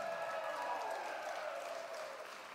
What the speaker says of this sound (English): Let's hear a round of applause for just being here.